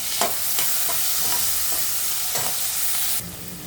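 Tomatoes and salt go into onions frying in oil in a pan, with a steady close sizzle and repeated spoon scrapes and stirs, and a sudden louder hiss near the end.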